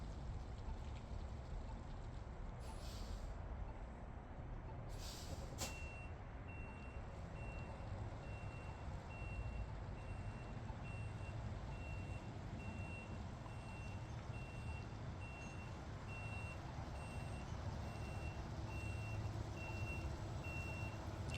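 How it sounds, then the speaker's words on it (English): A truck reversing with a trailer, its backup beeper sounding in a steady repeating pattern over a low engine rumble, with a couple of brief hissing bursts near the start, no voices. "And then we're gonna back that trailer up."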